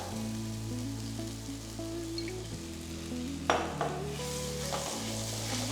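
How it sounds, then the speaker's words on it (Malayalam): Green chilli and onions sautéing in oil in a pan give a steady, close sizzle under sustained background music, with one brief clatter of a utensil midway. "നന്നായിട്ട് സോട്ട് ചെയ്യുക, പച്ചമണം നന്നായിട്ട് മാറണം."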